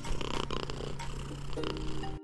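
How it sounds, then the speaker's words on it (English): A low, steady purr rumbles throughout at close range, continuous and fairly loud, with no voices. "She says murr, murr to thank you."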